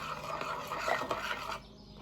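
Pork chop ingredients being stirred together in a bowl make a close, steady scraping and rubbing for about a second and a half before tapering off, with no one talking.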